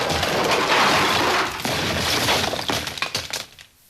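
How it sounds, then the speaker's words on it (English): Sound effect for an audiobook story: a wooden shelf splinters and crashes to the ground, a loud sustained crash and clatter that fades into scattered rattling debris and then near silence. "there was a sound of splintering wood, and the shelf and Pooh crashed to the ground"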